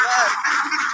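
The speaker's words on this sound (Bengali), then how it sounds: "প্রচুর হাঁস দেখা যায়।" Ducks give a brief, loud nasal honking call in foggy countryside at Dharmapasha, Sunamganj, Bangladesh, up close and filling the whole second.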